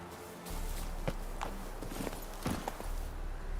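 Hoofbeats of Roach, the horse in The Witcher 3, a faint, irregular clip-clop of a few hooves stepping at a walk over a low steady ambient bed.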